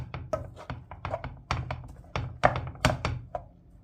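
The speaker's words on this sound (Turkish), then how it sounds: "Şimdi güzelce bunu karıştıralım." A series of soft, irregular knocks and thuds of a spoon stirring dry bulgur against a bowl, close by and fairly quiet.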